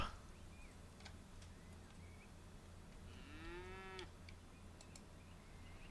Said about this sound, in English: This is a mooing cow.